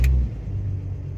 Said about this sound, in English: Now I'm gonna refuel it and I'm gonna start it.